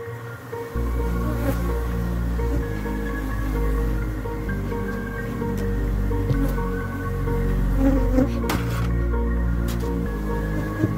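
Angry Africanized honey bees buzz loudly and continuously around an opened hive, a dense close-up drone with individual bees whining past the microphone and occasional sharp knocks.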